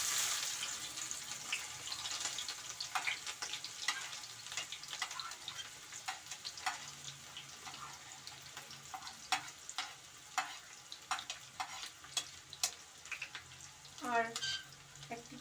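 Chopped onions fry in a pan for mutton kasha, giving a steady broadband sizzle throughout with scattered crackles and stirring clicks, and a brief scraping sweep near the end.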